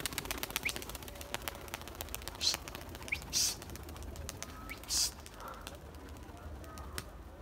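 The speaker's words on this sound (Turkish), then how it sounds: "Kuşlar kalktı arkadaşlar." Pigeons take off and fly outdoors, with a few short bursts of wing flapping separated by quiet stretches, over faint ambient noise and light clicking.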